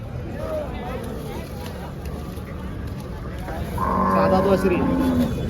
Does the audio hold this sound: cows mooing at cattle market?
yes